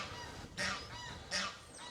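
Two loud goose honks, close by, each a short harsh double call, separated by a brief pause with no talking.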